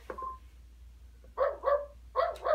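A dog barks in the video game "Qui l'a vu?" when it is fed, giving four clear, close barks in two pairs after a short electronic tone.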